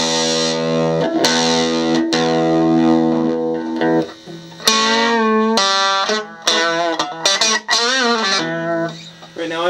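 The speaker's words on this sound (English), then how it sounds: "Don't be afraid of distortion." A distorted electric guitar rings out loud through an amp, sustained notes then choppier bursts and bends, with a few spoken words mixed in.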